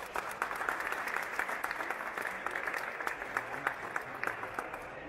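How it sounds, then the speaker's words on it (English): An audience at an aquascaping competition claps in a steady round of applause, fairly quiet and even, with crisp individual claps standing out throughout. "Maybe we can give a round of applause to the guys."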